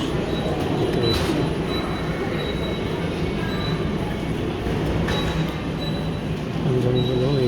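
A train pulls into a station platform in Korea, a steady rumbling roll under faint high squeals from the wheels, continuous and fairly close with no talk.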